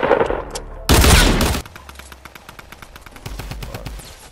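Heavy gunfire rips through a Battlefield match, a loud sustained burst of shots followed by quicker, lighter rapid fire that stutters on behind it.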